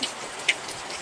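Light rain falls outdoors on a calm, nearly windless day, a faint patter with a few sharper drop ticks standing out against the soft background.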